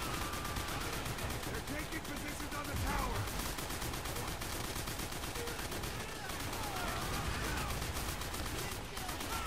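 Dense, continuous battle noise from a World at War firefight, with a tank shooting at the players amid steady gunfire and explosions, loud and unbroken throughout, with voices faintly underneath.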